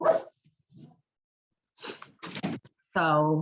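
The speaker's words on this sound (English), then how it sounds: "you might have just heard my dog bark" A pet dog barks a few times indoors, the short sharp barks fairly close, with someone talking briefly around them.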